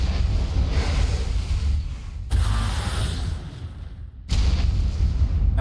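Heavy booming bazooka blasts roar in long, dense bursts with brief gaps between them, loud and close, exploding in the game ARK during a PvP raid on a cave base.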